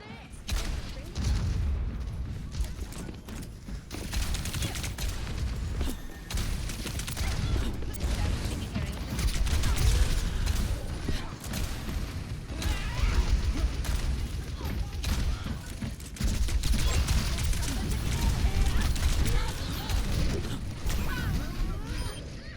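Gunfire from McCree in the video game Overwatch: dense bursts of shots and clanking mechanical effects over a constant game din, fairly loud throughout, with a player talking over it.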